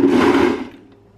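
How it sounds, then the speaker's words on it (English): A blender whirs loudly and close as it mixes seitan dough, a short burst that cuts off and fades to quiet within about a second. "Time to go over to the blender"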